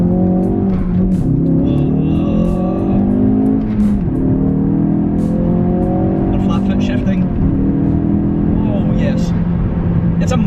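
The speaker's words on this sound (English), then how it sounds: "So it's easy to do launch control. We just come to a stop, first gear, clutch in, floor it," A Ford Focus RS with an MSD400 tune launches from a standstill in first gear, its engine roaring loud and close as it revs and pulls through the gear, with a voice talking over it throughout.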